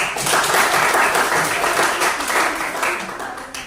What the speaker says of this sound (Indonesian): silakan kasih aplaus dulu untuk teman kalian